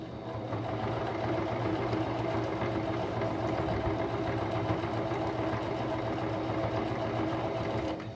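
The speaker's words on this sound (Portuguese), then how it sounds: "Fiz a dobra. Agora vamos costurar aqui, ó." A sewing machine stitches a fold in denim jeans, a steady, continuous mechanical hum and rapid needle rattle that holds for the whole stretch, close and even in level, with no voices.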